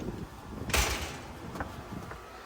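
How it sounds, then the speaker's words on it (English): A security screen door at a home in Henderson, Nevada swings shut with one sharp clack, followed by faint rattles over quiet room tone. "that security screen, let me shut it and just show you"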